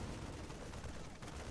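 Marine firing in the real-time strategy game StarCraft II, a dense, continuous rattle of rapid shots that stays fairly faint and steady over background game noise, with one brief dip near the end.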